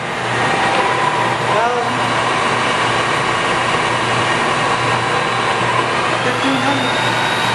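A Cincinnati No. 3HD horizontal mill with its vertical spindle turning at 1500 RPM gives off a steady, loud, broadband machine whine and rumble that stays even throughout.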